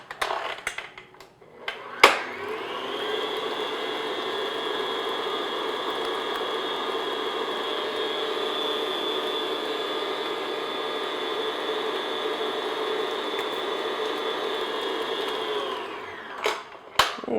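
An electric mixer on medium speed beating eggs into vanilla cupcake batter, a steady droning whir running unbroken for about fourteen seconds, with clunks at start and end.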